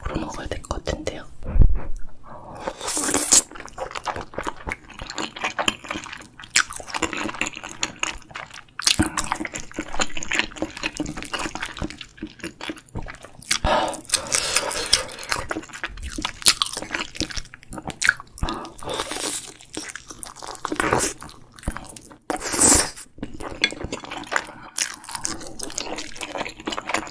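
Close-up eating sounds: wet chewing, crunching and squishing of food, including fish cakes, come in irregular bites over nearly half a minute, with soft whispering in between.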